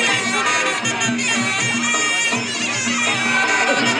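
A dense crowd at a Muay Thai fight between Khai Muk Khao and an Arab opponent keeps up a loud, continuous roar of cheering and shouting, with a commentator's voice running underneath.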